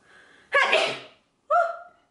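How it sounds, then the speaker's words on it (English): One sharp, close human sneeze bursts out after a short inhale, followed by a brief voiced exclamation. "oh, sneezing."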